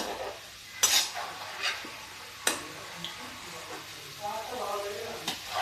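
Potatoes fry in a pan of hot oil over a lowered flame and are scooped into a strainer, with scattered metal clinks and scrapes, soft sizzling and close kitchen handling noises.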